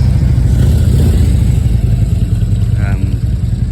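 A Kawasaki Z900 RS motorcycle rumbles past on a street in Japan, a loud, steady low engine drone with a slight rise in pitch near the end.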